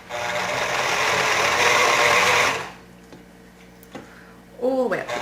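A sewing machine runs a single straight row of stitching up a zipper fly front, a steady loud whir for about two and a half seconds before stopping, followed by quiet handling and a brief voice near the end.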